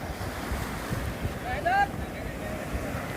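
Steady wind and surf on the open sea of the Bay of Bengal, where a fishing boat carries fishermen off Teknaf. Wind buffets the microphone throughout, and a brief whistling tone rises midway.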